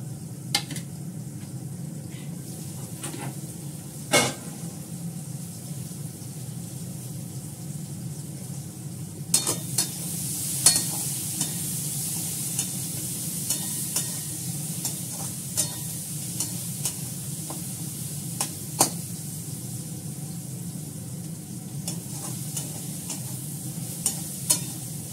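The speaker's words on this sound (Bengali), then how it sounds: "বেসন দিয়ে ভেজে নেব" Eggplant slices dipped in gram flour batter sizzle steadily in hot oil, a soft continuous fry with occasional sharp utensil clinks and stirring knocks, moderately quiet and without talk.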